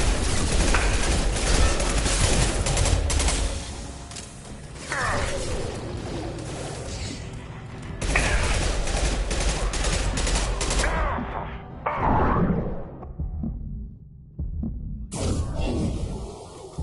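Sustained gunfire and combat noise in Mass Effect 2, dense bursts of weapon fire and explosions in long stretches broken by short pauses, with game dialogue heard in between.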